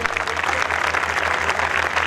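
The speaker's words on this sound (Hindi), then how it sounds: "ज़ोरदार तालियाँ" An audience at a Christian worship concert breaks into strong applause, a dense, steady patter of clapping lasting about two seconds.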